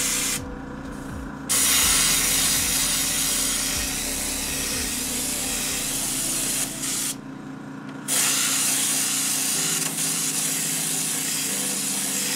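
Spray paint hissing from an aerosol can onto a galaxy painting, long loud continuous bursts broken by two brief pauses, close up.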